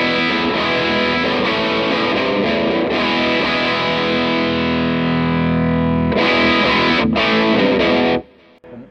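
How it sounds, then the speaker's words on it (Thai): Electric guitar run through a Bjfe Model G overdrive pedal with all knobs centered gives a thick, driven, sustained tone. Chords ring and change for about eight seconds at steady loudness, with no voices, then stop abruptly. "เดี๋ยวลองเปิดเอฟเฟคนะโดยปรับตรงกลางๆทั้งหมดก่อน"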